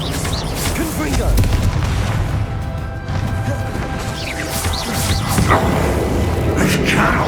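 A Confringo fire spell goes off in Hogwarts Legacy during the final boss fight with booming, crashing blasts. Swelling bursts rise over a dense roar of combat, and voice sounds can be heard underneath.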